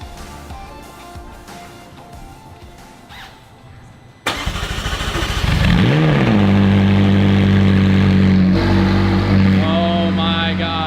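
A McLaren 600LT starts up with a sharp crank and catch, then the engine flares into a loud, close rev before settling into a deep, steady idle with another brief blip near the end.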